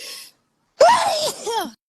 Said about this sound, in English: I feel like I have to sneeze, but it's not coming